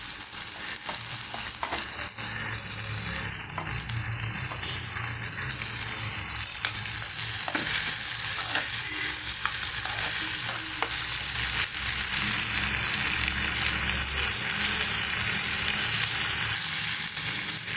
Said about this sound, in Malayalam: ഉള്ളി ഒരുവിധം മൂത്ത് കഴിയുമ്പോൾ നമുക്ക് ഇതിലേക്ക് തക്കാളി ഇട്ട് കൊടുക്കാം